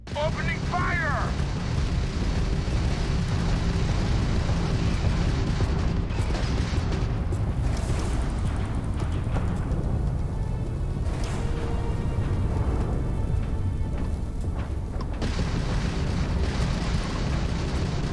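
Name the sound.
spaceship weapons firing in the Starfield video game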